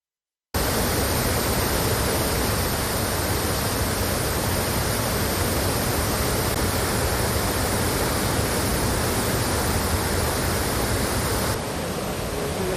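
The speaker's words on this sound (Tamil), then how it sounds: "ஒகேனக்கல் அருவியில் வெள்ளப்பெருக்கு ஏற்பட்டுள்ளது" Floodwater thunders over Hogenakkal waterfall, swollen by surplus water released from Karnataka dams: a loud, steady, dense roar of falling water that continues unbroken throughout.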